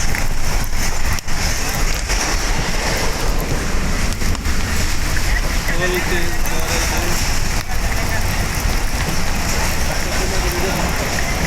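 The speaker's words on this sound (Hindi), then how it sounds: "फुल तेज़ बारिश" Heavy rain pours steadily over a vehicle travelling on the road from Lahore, a dense, continuous hiss and rumble with no letup, close and loud throughout.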